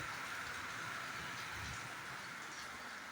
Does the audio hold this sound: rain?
yes